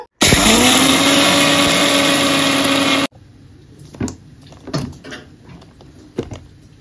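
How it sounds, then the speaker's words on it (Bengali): A mixer grinder powders sugar with a loud, close, high-pitched whine that starts abruptly, holds steady for about three seconds and cuts off, followed by a few scattered knocks and clatters of handling the jar. "সেটাকে মিক্সারের মধ্যে দিয়ে খুব ভালো করে গুঁড়ো করে নেব"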